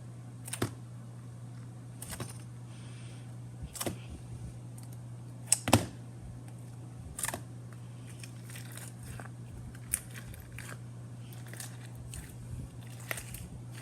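Cloudy slime being squished and played with by hand, giving a run of soft crackling snaps and pops, irregular and close, with a few sharper bursts over a steady low hum.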